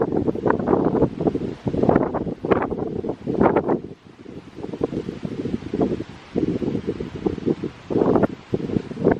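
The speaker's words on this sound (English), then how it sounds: "because this wind is so freaking annoying" Strong wind buffeting a microphone outdoors near a church, giving loud, rumbling gusts that swell and drop in waves, briefly easing in the middle before picking up again.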